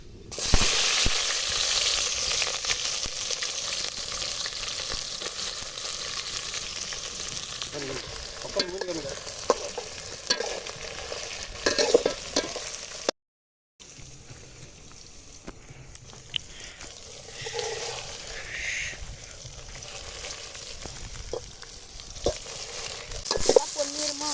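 Ginger, garlic and chillies fry in hot oil in a pan, giving a continuous close, crackling sizzle broken by scattered stirring scrapes and taps. The sound cuts out briefly midway, then resumes.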